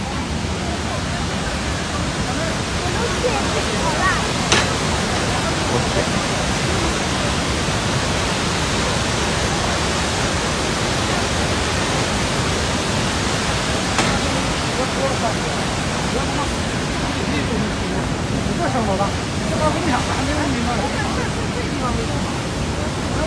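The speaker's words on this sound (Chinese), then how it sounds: "那我们一进听这个瀑布的声音多大。" A roaring waterfall at a scenic tourist area gives a loud, steady broadband rush that holds unbroken for the whole stretch, with faint crowd murmur underneath.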